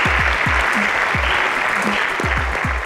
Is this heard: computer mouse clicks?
no